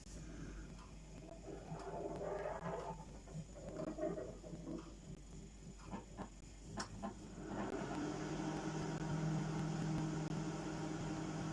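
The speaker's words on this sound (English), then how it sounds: "even though the display on the microwave is completely shot, it still works" A microwave oven with a broken display runs with a steady appliance hum and low drone throughout, some faint rustling and handling noises over it, and no talking.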